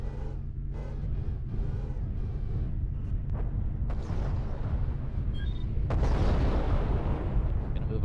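Missiles striking and exploding in the MechWarrior Living Legends combat game, a cluster of booms and crackling blasts building into a louder rumbling barrage toward the end, with faint game sounds under it.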